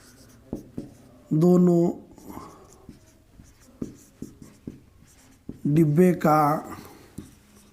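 Writing during a Class 8 maths lesson on the area and volume of 3D shapes, with faint pen or chalk strokes and light taps scattered under a teacher speaking in Hindi.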